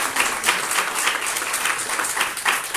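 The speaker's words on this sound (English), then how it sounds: "Round of applause, please." An audience at an inclusive research seminar applauds after a talk, with dense, steady clapping close by that carries on without a break.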